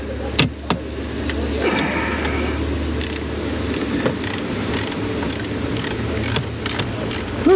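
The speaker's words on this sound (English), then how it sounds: "Icon T40 and the Pittsburgh ratchet. It's working great." A Pittsburgh ratchet wrench clicks in a run of sharp, evenly spaced pawl clicks close by, over low shop background noise.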